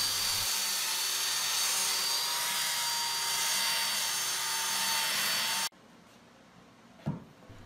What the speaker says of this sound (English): We're just going to sand that down a little bit.